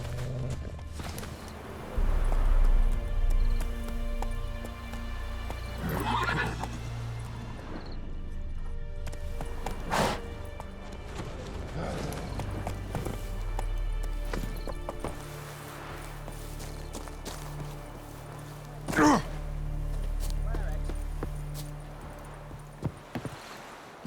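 Roach, a horse in The Witcher, clip-clops with hooves in irregular bursts and lets out a few neighs, with game ambience around it.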